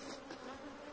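Honeybees buzz around a beehive during a honey harvest, a dense, continuous droning swarm that stays steady and fairly close throughout.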